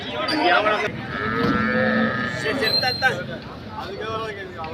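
Cattle moo loudly at close range amid a busy outdoor hubbub at the Sunday cattle market in Anthiyur, Tamil Nadu, with people talking throughout.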